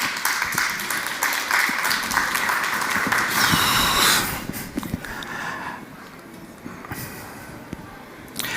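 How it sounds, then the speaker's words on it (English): A crowd at an artist's talk and performance at Art Cologne gives a warm round of clapping that stays full for about four seconds, then tapers into sparse claps and quiet room noise. "you can give me a little round, like a kind of warming applause"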